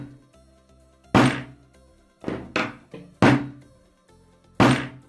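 Five heavy, dull thumps strike an iPhone screen covered by a protective film, spaced irregularly about a second apart, each close and loud with a quick decay.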